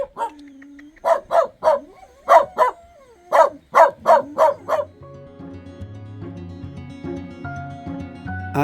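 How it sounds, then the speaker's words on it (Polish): A dog on Santo Antão in the Cape Verde islands barks in two quick bursts of about four sharp barks each, fairly close and loud, followed by a soft musical tone in the background. "jest nawet pies"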